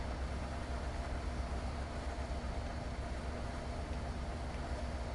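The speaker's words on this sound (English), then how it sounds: "The Train Sim World ACS 64." An ACS-64 electric locomotive in Train Sim World running steadily, with a dense, continuous rumble and roar and no clear breaks.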